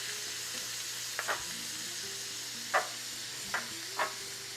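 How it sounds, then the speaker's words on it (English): Corn kernels frying in a pan while tacos are cooked, a steady low sizzle broken by a few short scraping stirs, close up with no voices. "Then I'm going to add some of the corn. Cook those up."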